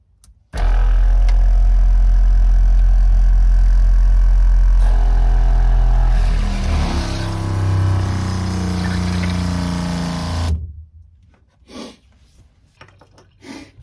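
An RV water pump hooked to a trailer's water tank runs with a loud, steady droning hum that shifts partway through, then cuts off, leaving a few faint knocks and clicks.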